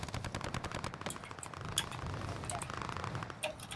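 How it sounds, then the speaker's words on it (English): Pistol and other gunfire in Call of Duty Warzone, a steady string of faint, crackling shots with a few sharper ones standing out, under muffled game background. "I got collapsed by a pistol."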